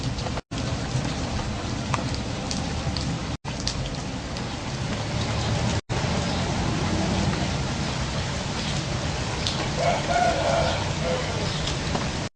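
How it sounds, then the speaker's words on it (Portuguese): Steady, dense rain falls outdoors in a constant even hiss that fills the whole stretch, with brief cuts in the sound. "Tá chovendo,"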